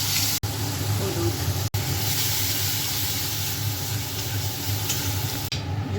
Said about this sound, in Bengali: ঝোলটা ফুটে গেছে, মাছটা দিয়ে দেবো।